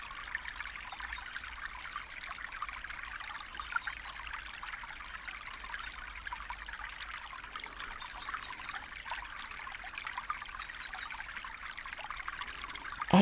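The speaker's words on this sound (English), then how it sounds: "take your time to imagine all aspects of this flowing stream." A small flowing stream trickles and babbles steadily and softly, a continuous gentle water sound with no voices.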